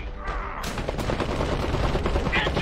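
Dense, overlapping bursts of gunfire crackle continuously in the game Iron Harvest, loud and close, with rapid automatic shots blending into a chaotic battle din.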